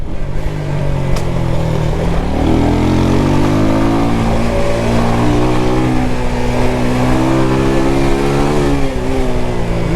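A motorcycle engine revs loud and close while riding on a Jamaican highway at night, holding a steady, continuous drone whose pitch climbs and sways as the bike accelerates, with constant wind roar underneath.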